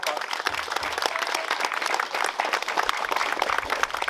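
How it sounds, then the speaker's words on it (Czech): A crowd applauds steadily, a dense wash of clapping that holds at an even level throughout. "Myslím, že si to zaslouží velký potlesk pro paní Duškovou."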